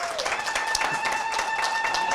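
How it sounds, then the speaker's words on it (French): Audience applauding students at a ceremony in Casamance, a steady wash of clapping over a faint tonal hum, continuous and fairly close for the whole stretch. "je pense qu'ils méritent vraiment beaucoup d'applaudissements"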